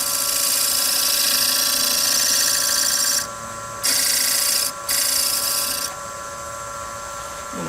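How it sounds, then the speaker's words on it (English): A skew chisel shears across a small wooden toy wheel spinning on a lathe. A continuous high hiss and scrape comes up close, broken by a couple of brief pauses before it eases off, with a steady motor hum underneath. "Let me use my skew chisel to square it up a little bit."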